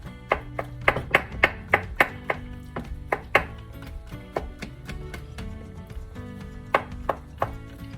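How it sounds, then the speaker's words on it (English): A chef's knife mincing ingredients for a seafood bisque on a cutting board, giving a steady series of sharp, close chopping taps that come in quick bursts with short pauses, and no talking. "almost like you're mincing with your knife"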